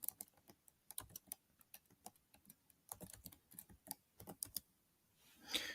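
Fingers type a CNIC number, entered in dashed groups, on a computer keyboard during an online trademark registration in Pakistan. Quick irregular clicks come in bursts, close and fairly quiet, with a denser flurry of keystrokes at the end. No one speaks.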